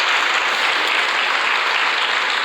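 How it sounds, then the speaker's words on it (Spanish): Steady applause from a church congregation during a Spanish-language sermon, a dense, continuous clapping that holds at even strength throughout with no talk over it. "Denle un aplauso al Señor,"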